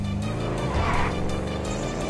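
A big 140-cubic-inch motorcycle roars through a GTA V video game chase, engine noise loud and continuous with squealing tires and skidding layered over it and no speech.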